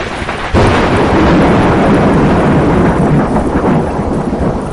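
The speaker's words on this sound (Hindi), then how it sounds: "देखते ही देखते तेज बारिश हो गई" A loud, dense downpour of heavy rain bursts in and roars continuously with thunderous low rumbling, a violent storm pouring over farm fields.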